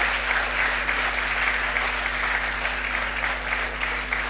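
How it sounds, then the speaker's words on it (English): A forum audience claps for Mrs. Daramola in sustained, even applause, many hands beating together at a constant moderate loudness with no voices over it. "we need to give her a round of applause"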